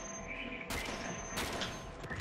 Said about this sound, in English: I'm shooting this guy in the face.